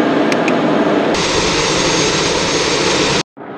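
An aircraft engine runs steadily at power during a de-ice boot test, a loud sustained roar and whine that shifts slightly in tone partway through before cutting out abruptly near the end.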